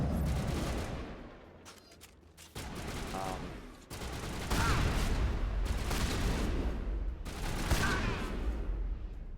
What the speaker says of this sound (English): You guys are really bad at dodging my bullets.